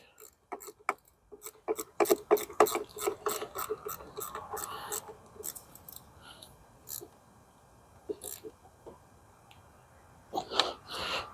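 Tightening the bolt on a Subaru Outback battery terminal, with quick ratcheting clicks in bursts, close and fairly quiet.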